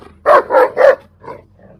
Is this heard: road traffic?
no